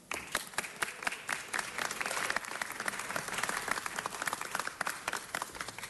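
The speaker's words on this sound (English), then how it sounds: "Give her applause." An audience at a city council meeting applauds for mariachi performer Marisela Ibarra of Mariachi Los Camperos, with dense, steady clapping from many hands that carries on for several seconds without speech.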